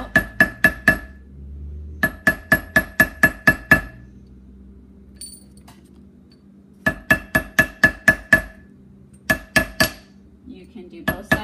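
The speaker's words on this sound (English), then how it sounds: "I take a rubber mallet and I even it out." A rubber mallet strikes a silver disc resting on a polishing cloth to flatten it, sounding as close bursts of quick, evenly spaced metallic taps separated by short pauses.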